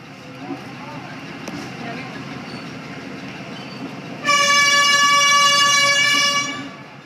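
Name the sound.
train horn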